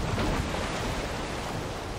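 Ocean waves crash against a wooden boat in Valheim, a dense, steady roar of surf and water noise filling the whole moment, loud and close with no distinct breaks.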